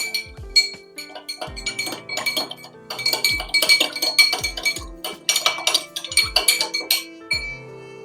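Spoon clinking against a bowl while rice vinegar, sugar and salt are stirred together for onigiri seasoning, a steady run of bright, close taps and scrapes over about eight seconds with no talk.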